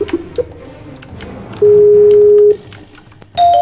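Phone dialing effect in a Minecraft survival game: a few short clicks, then a steady electronic tone held for about a second, a pause, and a second higher tone starting at the end, loud and alone with no talk.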